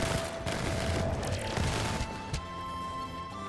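Gunfire from the Once Human video game as a player blasts a mimic enemy, a dense, fairly loud flurry of rapid shots and impacts mixed with game effects and tonal cues.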